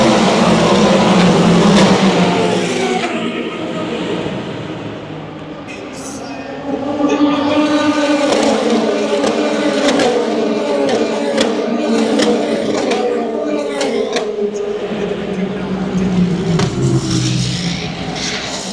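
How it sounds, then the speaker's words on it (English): The 62-car grid at the start of the Le Mans 24 Hours roars past in a loud, continuous stream of racing engines, with pitch swells rising and falling for nearly twenty seconds. "with the roar of engines, the grid of 62 cars thundered past to begin 24 hours of racing"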